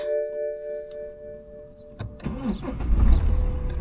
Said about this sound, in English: we're ready to go for our first start